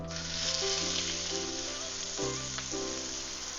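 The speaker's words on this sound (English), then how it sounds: "we're just going to do a quick sear on this" Lamb sears in a pan of hot oil and rendered fat with a steady, close sizzle and crackle, with faint stirring or shifting and no talking.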